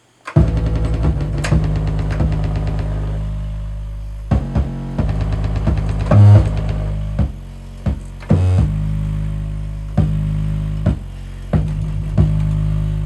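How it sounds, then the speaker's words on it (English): Deep 808 bass from a hip hop beat pounding under sustained keys, loud and close, with strong repeated hits and sharp cuts in a steady rhythm and no voices. "Let me let you hear what that 808 sounds over the keys"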